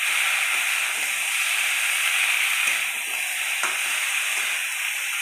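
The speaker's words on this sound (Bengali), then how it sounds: "এই যে নাড়িয়ে দিচ্ছে।" Eggplant and ridge gourd stir-fried for a spicy crab curry give a steady, close hiss and sizzle, with soft scrapes and clacks of stirring breaking through now and then.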